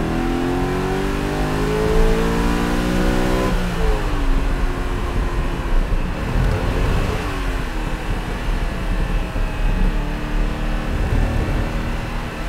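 A Lamborghini Jalpa V8 engine revs hard and loud, rising and falling through gear changes, with a throaty growl held steady throughout.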